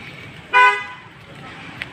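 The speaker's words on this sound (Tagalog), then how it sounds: "Daming sasakyan, highway kasi ito." A single short car horn toot rings out on a busy highway, loud and close against a low bed of passing traffic, followed by a faint tap.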